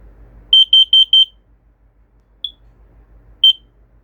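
A smoke alarm from a collection of detectors gives four quick, shrill beeps in a row, then one faint short chirp and one more sharp beep, all loud and close in an otherwise quiet room.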